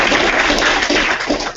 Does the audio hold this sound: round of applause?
yes